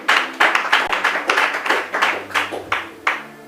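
A church congregation claps in a steady rhythmic beat to acclaim the king of glory during a Bible teaching, loud and close, roughly two claps per second with a faint hum beneath.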